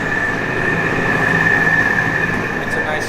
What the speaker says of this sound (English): Sorry for the fan.